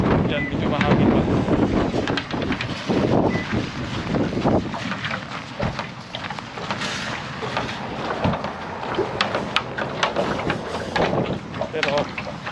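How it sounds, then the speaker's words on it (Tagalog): Wind buffets the microphone during a snowstorm in Manitoba, Canada, a steady rough rumble with gusty swells throughout, while someone talks over it. "Yan, medyo mahangin pa."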